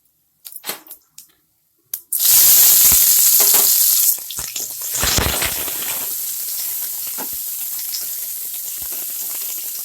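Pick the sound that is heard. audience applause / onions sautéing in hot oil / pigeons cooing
onions sautéing in hot oil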